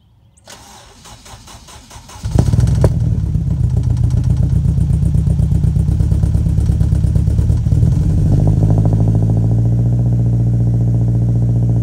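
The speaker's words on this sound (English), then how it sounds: "That's what she sounds like with the cold start." Cold start of an Acura RSX: starter cranks for about two seconds, then the engine catches loudly and settles into a steady, slightly high idle, close up with no talk.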